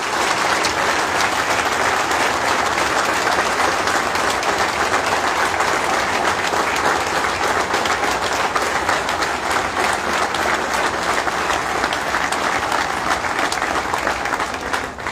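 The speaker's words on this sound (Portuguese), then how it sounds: "uma grande salva de palmas para eles" Sustained loud applause from a crowd at a political campaign candidate presentation, dense even clapping continuing unbroken for about fifteen seconds.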